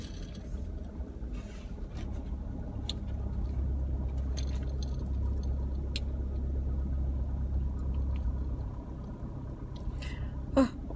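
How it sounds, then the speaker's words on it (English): Cars crawl through chaotic after-school pickup traffic, giving a steady, close low engine rumble with a brief scrape near the end. "I'm leaving school and I'm watching all the cars. It's chaotic as can be when we get out."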